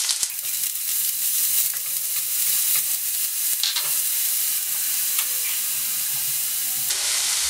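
Onion sautéing in a pan with curry leaves for a carrot and egg thoran hisses and sizzles loudly and evenly, with a few stirring scrapes along the way and no speech.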